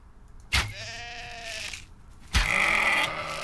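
Two loud video game sheep bleats close by, each a wavering nasal cry of about a second, separated by a short pause.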